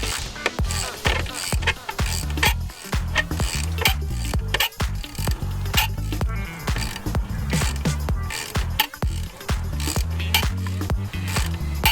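A ratchet tightens the adjustment bolt on the belt tensioner of a 2012 Toyota Corolla during a serpentine belt replacement, giving rapid, loud clicking bursts with short pauses, close up.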